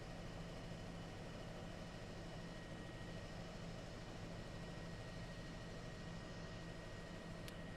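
Steady, droning rotor and engine noise from a news helicopter flying over a wildfire, heard from inside the cabin as a constant, unbroken rumble with no talking.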